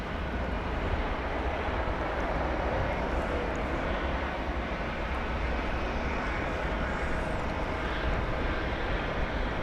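An airliner arriving at Dallas Fort Worth Airport after a flight from Champaign, Illinois, gives a dense, steady, loud jet engine roar that continues evenly from start to finish with no voices.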